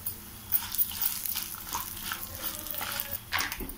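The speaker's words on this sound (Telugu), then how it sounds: "ఈ మొత్తం వేగనివ్వాలి." Peanuts and broken dried red chillies fry in hot oil in a pan, giving a close, busy crackling sizzle with uneven bursts of spattering and stirring throughout.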